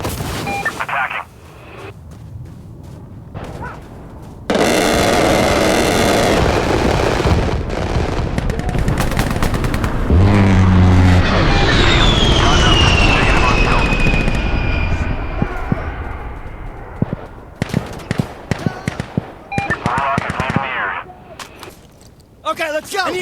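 Strafing run from an attack helicopter in the tactical shooter Insurgency: Sandstorm, a long loud sustained roar of gunfire and engine noise lasting several seconds amid scattered shots, with voices talking before and after.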